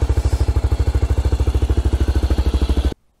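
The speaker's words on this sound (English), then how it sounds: "That is one loud KLR 650." Gen 3 Kawasaki KLR650 single-cylinder engine with an FMF Powercore 4 exhaust, idling close by with a loud, steady, thumping pulse for about three seconds before cutting off abruptly.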